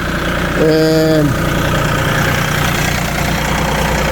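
Vermeer SC48TX tracked stump grinder engine idling with a steady low drone throughout, a brief tonal whine rising over it early on and a short spoken word near the start.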